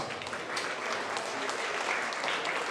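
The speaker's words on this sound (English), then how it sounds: "Let's give these two young ladies a big round of applause." Applause breaks out in the audience at a county fair 4-H goat show, a steady wash of many hands clapping from start to finish at moderate, even loudness.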